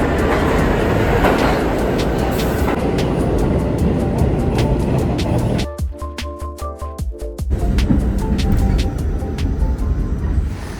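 New York subway train in a station, a loud rumbling roar of the train followed by a rapid series of sharp clicks and tones as it stops, then the rumble resumes.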